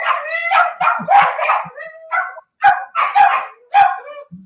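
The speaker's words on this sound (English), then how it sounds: "Sorry, dogs are gonna bark." Several dogs bark loudly and close by in a rapid, irregular burst of sharp barks and yips, with a brief low whine at the end.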